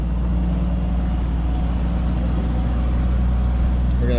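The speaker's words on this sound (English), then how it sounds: "Got the oil draining." Engine oil draining from a pink 41-foot Bahama center console boat during engine maintenance: a loud, close, continuous pouring rush with a deep rumble that holds steady throughout.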